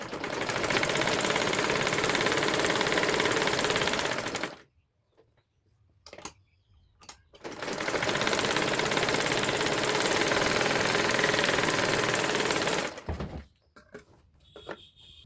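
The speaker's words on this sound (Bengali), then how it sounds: "এবার আমি সুতাগুলো কেটে এই কাপড়টা উল্টিয়ে নিয়ে একটা চাপ সেলাই দিয়ে নিব" Sewing machine top-stitching fabric for a handmade potli bag, running in two long, steady bursts of loud continuous whirring separated by a few seconds of quiet with small clicks.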